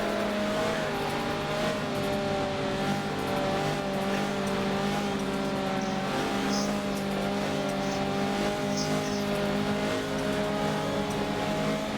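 Michelin Pilot Challenge race cars at Road America rumble and rev steadily while warming up their tires, a sustained loud engine drone with occasional tire squeal.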